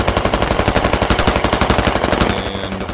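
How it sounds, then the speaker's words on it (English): Rapid automatic gunfire in the military shooter Squad, a steady stream of loud, closely spaced shots running almost three seconds without a break, with a brief high tone near the end. "BTR is looking for Toast and then puts a bullet into Toast"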